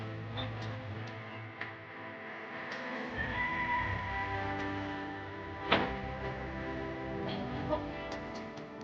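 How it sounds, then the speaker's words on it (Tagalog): Chickens cluck faintly against a steady outdoor background, with a few soft clicks and no talking. "Ayun, may mga manok. Manok."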